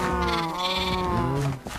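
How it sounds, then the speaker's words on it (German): Minecraft sheep bleats in a long, wavering harmonic cry lasting most of the moment, loud and close, with no talk over it. "Schaf."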